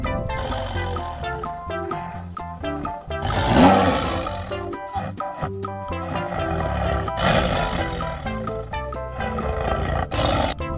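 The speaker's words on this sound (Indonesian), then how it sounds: "lihat di sini ada harimau" A tiger roaring, with several loud, rough roars that swell and break off among other dense, busy sounds over about ten seconds.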